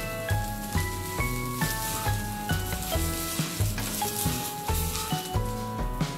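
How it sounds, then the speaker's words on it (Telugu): A dosa sizzles steadily as it roasts on a hot pan, a soft crackling hiss that runs throughout beneath louder background music with a regular beat. "ఈ దోశ కాలడానికి కొంచెం టైం పడుతుందండి"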